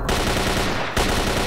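Sustained automatic AK rifle fire in the video game Radiophobia 3, loud, dense rapid bursts filling the clip with a brief break near the end before firing resumes.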